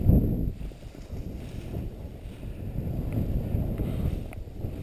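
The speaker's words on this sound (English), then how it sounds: "Stronger wind today." Strong outdoor wind gusting against the microphone, with low rumbling buffets that swell and ease over a few seconds.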